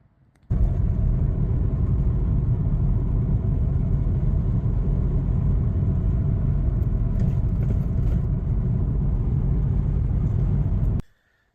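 Volkswagen Bora on a test drive over country roads, its engine a steady, loud rumble of interior road and motor noise that runs unbroken for about ten seconds and then cuts off abruptly, with no talking.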